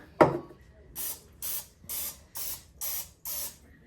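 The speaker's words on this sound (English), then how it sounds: "I just give them a good spray. Get the sides real good so they won't stick." One sharp knock, then six short, evenly spaced hissing bursts of cooking spray, close and fairly loud, with brief pauses between them.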